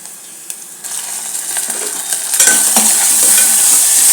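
Bay leaf and masala spices fry in oil for a Rayalaseema-style chicken masala curry, a sizzle that swells after a quieter start, mixed with close scraping and clinks of stirring.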